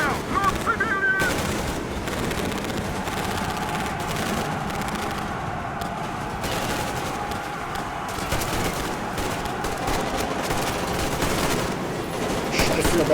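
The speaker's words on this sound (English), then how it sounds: "Why, yes, there are guns going off." Dense, continuous gunfire fills a combat scene in the video game Metro Exodus: rapid bursts and overlapping shots rattle without pause, loud and close, with someone talking briefly over the din.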